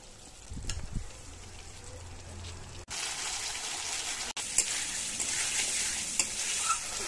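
Turmeric and Kashmiri chili powder sauté in a pan for a katla fish curry. A close, steady sizzle grows louder after a brief break, with light scraping from stirring and no talk.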